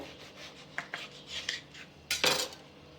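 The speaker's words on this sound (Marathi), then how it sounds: "आपण आता खरबूज कट करून घेऊ" A knife cuts through a fresh muskmelon (kharbuja) on a board, giving a few short scraping and clicking strokes followed by a louder, longer slice near the end, close and with no talk.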